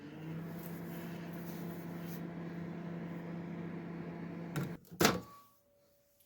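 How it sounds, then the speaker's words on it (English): A microwave oven heating meatloaf hums at a steady, low, moderate level for several seconds, then stops with a couple of sharp clicks or door clunks, leaving near silence. "let's get this into the microwave. Let's give it 5 minutes and see how it looks."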